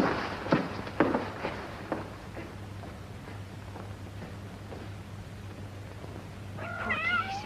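Cats kept behind a curtain in an old house meow in several short, close calls, then a longer wavering meow rises near the end over a low steady hum.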